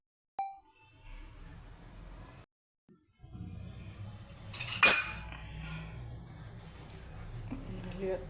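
A metal wok is set down on a stove with a sharp clang and a brief ringing ding, amid kitchen clatter and a person talking nearby.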